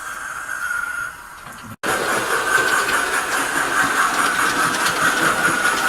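Sound from a Hornby Railroad Tornado model locomotive played through a newly fitted speaker: a steady steam-engine chuffing hiss with a tonal hum, briefly quieter before a short cutout, then continuing at a fairly loud, even level, no talking.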